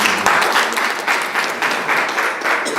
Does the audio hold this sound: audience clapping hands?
yes